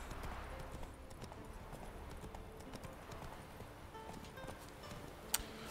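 Horse hooves clip-clop at a steady walking rhythm in The Witcher 3 video game, faint and even throughout with a sharp click near the end.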